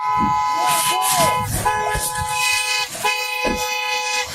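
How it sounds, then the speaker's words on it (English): A car horn blares in long, repeated blasts during a tense police stop of a truck whose driver's side window is busted out, with officers shouting commands over and between the honks. "Is she the one honking the horn?"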